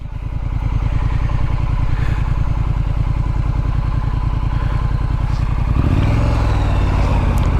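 Motorcycle engine running steadily and loud throughout a ride to a fishing tackle shop, with a shift in pitch near the end as the engine note changes, suggesting a gear change or acceleration.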